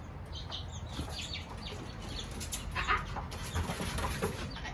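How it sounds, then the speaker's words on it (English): Chickens cluck and stir faintly in a farmyard, soft intermittent calls and a few chirps scattered over steady low background noise. "I know the chickens are stirring"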